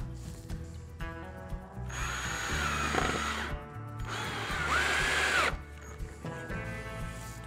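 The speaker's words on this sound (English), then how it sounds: "now I just screw the hinges into the back here" A power drill drives screws to fasten hinges, with two long, loud whirring runs that rise and strain between brief pauses and softer motor spin-ups.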